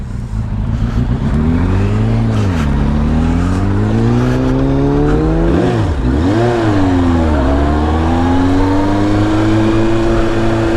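A 1998 Yamaha R1 litre sport motorcycle engine pulling loud and close through the gears, its pitch climbing and dipping with each change in a continuous roar.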